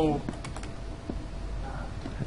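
Computer keyboard keys clatter briefly during a Minecraft gaming session, with someone talking over the typing.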